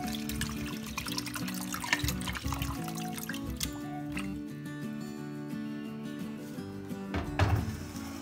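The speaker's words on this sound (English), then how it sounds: "Then add 1 or 2 cups of water." Water pours into a pan of fish curry with tomatoes and hog plum, a steady trickling splash continuing for several seconds over a low background hum.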